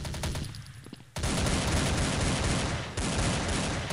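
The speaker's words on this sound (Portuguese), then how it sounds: "Tem alguém me atirando aqui, hein." Rapid automatic gunfire in the Blood Strike shooter game comes in a dense, loud burst that stops briefly and then resumes, with a few scattered shots beforehand.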